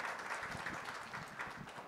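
Audience applause at a Youth Day ceremony, a fairly faint but continuous patter of many hands clapping in a hall, slightly distant and fading toward the end.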